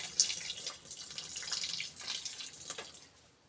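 Lemon juice is poured into homemade dish soap, giving a light, close trickle and splashing of liquid that fades out toward the end.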